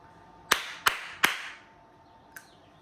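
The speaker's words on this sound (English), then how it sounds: "We clap it." Three sharp, evenly spaced hand claps ring out close and loud in a music class rhythm exercise, followed after a pause by a fainter fourth clap.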